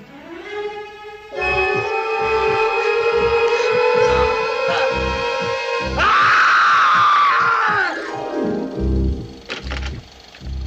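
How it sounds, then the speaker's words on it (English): A scream from The Tingler film excerpt: a long, loud, high wailing cry that holds steady for several seconds, swells brighter and harsher partway through, then breaks off, followed by scattered thumps and rustling. "the Tingler has been paralyzed by your screaming"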